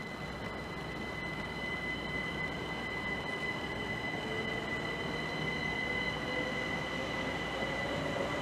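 A Canterbury to London Victoria passenger train departs Swanley station, a steady rumbling roll with faint whining tones, continuous and fairly close throughout with no talking.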